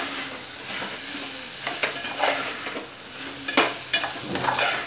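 Vegetables sauté in oil in a pan for veg pulao, a steady close sizzle with irregular scraping and stirring clatters from a utensil against the pan, and no talk.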